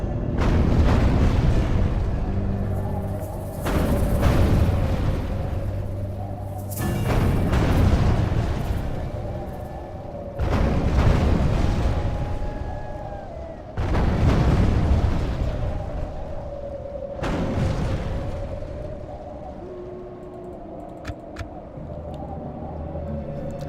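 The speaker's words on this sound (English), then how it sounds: "I'm going to just quickly let my artillery just batter the tower to death" Artillery pounds a castle tower in the medieval strategy game Medieval II: Total War, with five heavy booming impacts at roughly even intervals, each fading into a rumbling decay over a low continuous hum.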